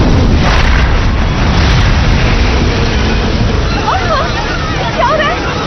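A fire bomb blast in an animated Iron Man series, a loud roaring rumble with churning, surging noise that slowly eases, with faint whooshing effects near the end.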